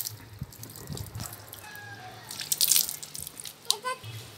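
Water poured over a person's head during a bath, splashing and dripping in bursts, strongest toward the middle and end, with a faint voice in the background.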